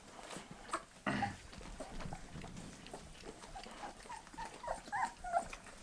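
Bull terrier puppies eat their first meat while being weaned, with soft snuffling, wet chewing and small whimpers close by, faint and irregular.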